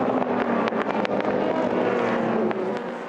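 LMP3 endurance prototypes racing, with loud engine roar, sharp gear-change blips and rising revs as cars pass close by in a continuous burst.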